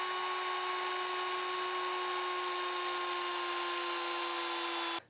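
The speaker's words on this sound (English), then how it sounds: "So now that I've drilled one of those holes" A steady, close electric drill whine boring a hole in a chair board, holding an even pitch for about five seconds before cutting off abruptly.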